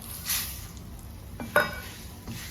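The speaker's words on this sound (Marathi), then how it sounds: "आणि बारीक गॅसवरती चांगल्या परतवायच्या" Vermicelli with turmeric is stirred in a pan over low heat, giving soft sizzling with a few scraping strokes of a spoon and a light metallic tap against the pan.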